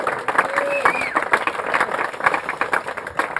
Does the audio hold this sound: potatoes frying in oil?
no